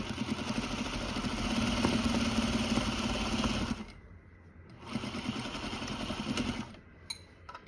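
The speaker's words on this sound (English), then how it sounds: "So I'm gonna sew it on this side just so I can see where I'm sewing." A Juki sewing machine stitching minky fabric runs in two steady, loud motor bursts with a brief pause between them, close and without talk.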